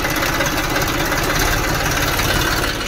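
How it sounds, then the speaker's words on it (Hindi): A tractor engine runs at a raised, steady throttle close by, a dense rhythmic chugging drone holding constant throughout without talk. "अब थोड़ी सी रेस देते हैं,"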